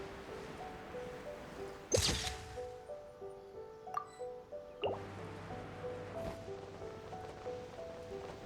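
Water drips from wet pant hems after rain on Watatsumi Island in Genshin Impact. Soft, scattered drops and splashes fall irregularly over a quiet background, with a few louder drips standing out.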